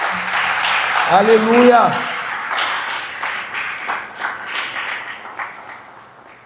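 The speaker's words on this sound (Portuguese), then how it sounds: "Aplauda o nome de Jesus mais uma vez." A church congregation claps in scattered, rhythmic bursts that build after a loud voice calls out over them.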